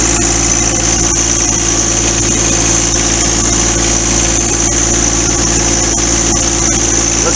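Steady, close rumble from the engine of a new John Deere 4x4 tractor moving along in low gear, a continuous vibrating drone with occasional small clicks and rattles over it.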